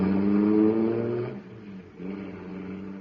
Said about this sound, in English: Boy, that cosmic surface car is really roaring.